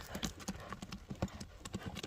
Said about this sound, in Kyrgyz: Көрүп турасыздар атты.